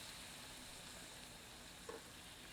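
Chicken pieces sizzle in hot oil in a kadhai, a steady, faint, close frying hiss with one small clatter partway through.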